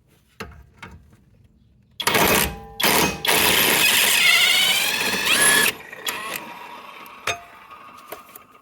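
An 18 mm wrench works a shock absorber bolt on a small car during a shock absorber change, giving a few sharp metallic clicks and then a long harsh ratcheting, grinding burst, with scattered clinks afterward.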